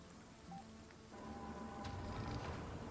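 Toxic rain falls in the Mars colony-building game Surviving Mars, a soft, steady pattering that swells slightly partway through and stays faint throughout.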